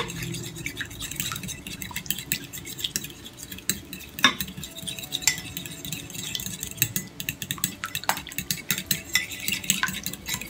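Argan oil and other hair-mask ingredients stirred together in a bowl, with steady scraping and clinking of a spoon against the container, close and fairly quiet, continuing without talk.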